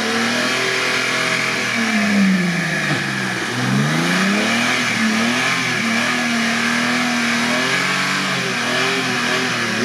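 A Mercedes G-Class engine revs hard while towing another vehicle, rising and falling through a loud, close, steady drone with a dip and surge partway through, and no talking.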